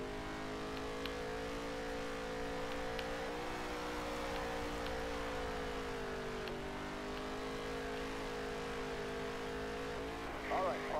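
A NASCAR race car engine in the NASCAR Heat 3 video game drones steadily through a lap, a continuous buzzing tone that shifts in pitch slightly as the car accelerates and eases off.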